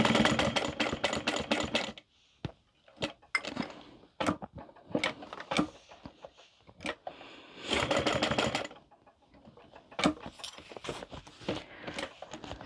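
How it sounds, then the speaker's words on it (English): A sewing machine top-stitches the fabric edges of a car trash can, running in repeated short bursts of rapid stitching separated by brief quiet pauses, close and clear with no talking. "And then we're just top stitching all of the edges."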